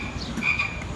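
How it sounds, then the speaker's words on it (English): A single frog croaks loudly and close by, one brief throaty call with no talking. "Sounds like a croaking frog that just ate a juicy fly."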